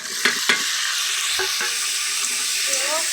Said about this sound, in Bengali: লাল লাল করে ভাজা হয়ে গেছে, কাঁকড়া মাছ দিয়ে দেবো